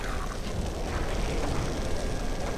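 A burning, exploded car in the shooter game FEAR 3 gives off a steady, loud roar of fire and rumble that fills the scene without letting up, and no one speaks over it.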